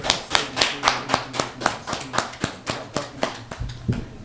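Audience applause at a press conference and contract signing, heard as a steady train of sharp, evenly spaced claps at moderate volume, slightly distant, over faint background noise.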